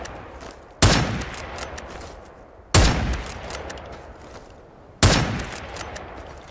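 Three loud bolt action rifle shots fired from the hip in the Vietnam War shooter Rising Storm 2: Vietnam, each a sharp crack with a long rolling echo, spaced about two seconds apart with no talking.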